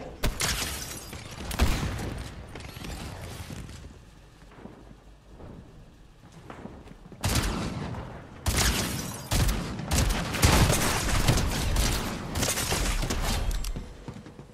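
Gunfire in the video game Fortnite comes as dense, loud bursts of rapid shots that repeat throughout, with booming impacts and clattering debris and a short lull partway through.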